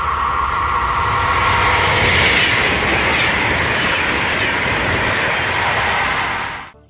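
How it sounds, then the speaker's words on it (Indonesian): A fast train roars past close by, a loud broad rushing rumble with a hissing high edge that holds steady, then cuts off abruptly at the end. "Ada kereta super cepat."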